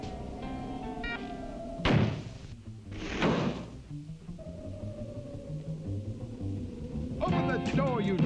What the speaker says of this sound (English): Open up, you treacherous rogue. Open the door, knave. Open up.